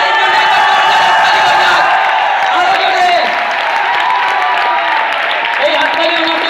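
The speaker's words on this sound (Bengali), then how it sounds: "এই হাততালি আমার জন্য যথেষ্ট নয়, আরো জোরে হাততালি চাই।" An audience at a motivational speech claps and cheers in a dense, continuous roar that holds steady at close range for the whole stretch, with a voice talking over it.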